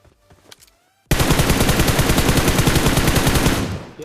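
Bizon submachine gun in a video game firing one long, loud, rapid automatic burst of about two and a half seconds after a brief quiet lead-in with faint game sounds.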